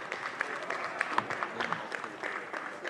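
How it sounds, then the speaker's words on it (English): Applause from an audience at a live comedy-style show event, a moderate burst of clapping with a few sharper claps standing out, fairly steady and somewhat distant over its short length. "Give them both a big round of applause."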